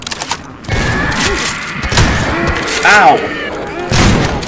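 Rapid gunfire and heavy thumps from a Half-Life 2 firefight ring out continuously, with a voice crying out over the shooting.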